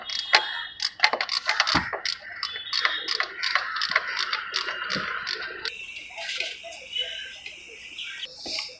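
A wrench works a 14 mm alternator bolt loose on a Hyundai Verna 1.6, making a run of rapid, close metallic ratcheting clicks that later thin out into quieter, sparser ticks.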